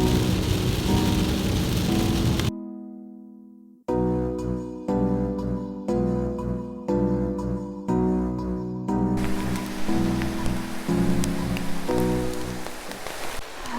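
Heavy pouring rain patters densely on a forest trail in the Great Smoky Mountains, a loud continuous wash broken by a brief silence and rhythmic tonal passages overlaid midway.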